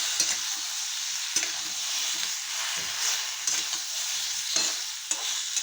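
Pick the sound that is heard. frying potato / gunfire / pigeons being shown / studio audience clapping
frying potato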